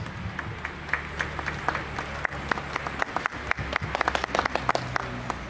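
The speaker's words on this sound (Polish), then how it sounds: "jak najbardziej oklaski wskazane" Scattered clapping from a school audience at a forestry technical college ceremony, a moderate ongoing patter of hands heard from a short distance with a few brief voices mixed in.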